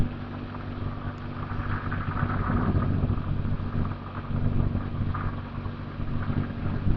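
A Keeway V Cruise 125 motorcycle engine revs while riding on a road, a droning engine tone rising and easing beneath strong wind buffeting on the microphone, with no talking.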